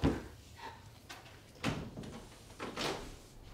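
A locked door is unlatched and opened, heard as a knock-like thud followed by rattling handle and latch clicks and a sliding swing, close and moderately loud.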